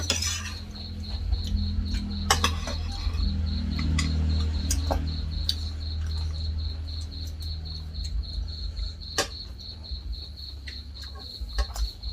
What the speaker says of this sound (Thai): กินข้าวไปฟังเสียง จิ้งหรีดไปจิ๊ดจิ๊ดจิ๊ดจิ๊ด